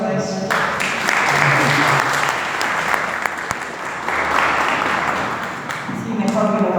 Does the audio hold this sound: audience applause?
yes